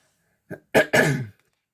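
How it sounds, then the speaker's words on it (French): A short burst of coughing, close and loud: a small throat catch followed by two harsher coughs, then silence. "Désolé les gars, je risque de pas mal tousser."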